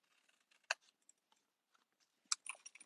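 Scissors snipping an angled glue tab on a paper card-stock template during a Stampin' Up! craft session, a few quiet crisp cuts, with one sharper snip early and a cluster of closer snips near the end.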